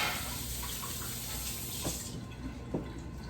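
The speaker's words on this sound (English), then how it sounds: "let me wash my hands here" Hands being washed under a running kitchen tap while roasting chickens are prepared, a steady close rush of water with small splashes and brief knocks, no voices.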